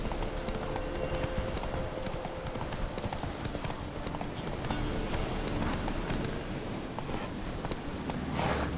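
Horse galloping in The Witcher 3, with rapid, steady clip-clop hoofbeats running continuously over a dense game ambience that sounds like rain, close and even in level throughout.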